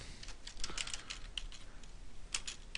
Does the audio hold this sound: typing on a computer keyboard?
yes